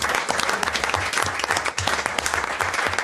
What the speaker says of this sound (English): We're applauding and they're not up here,